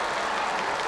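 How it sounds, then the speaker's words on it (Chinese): Arena crowd at an all-star sports event applauding and cheering a breakdance-style floor move, a dense, steady wash of clapping and voices filling the space without pause. "引起了满堂喝彩啊！"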